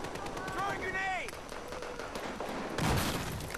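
Gunfire in the video game Battlefield 4, quick shots and a loud burst near the end, mixed with a voice talking over the action.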